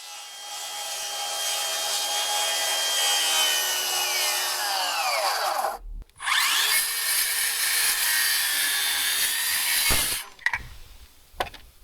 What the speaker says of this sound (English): this saw is such a beast to use. I've never had a cordless saw anywhere close to as big as this thing